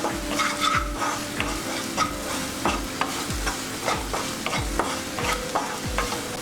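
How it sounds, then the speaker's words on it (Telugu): Pasta toasting with salt in a pan over a high flame, with a steady sizzle and repeated rhythmic scrapes and knocks of a spoon stirring against the pan, close and clear, without speech. "హాఫ్ స్పూన్ సాల్ట్ వేసుకుని హై ఫ్లేమ్ మీద మనం టోస్ట్ చేసుకుందాం."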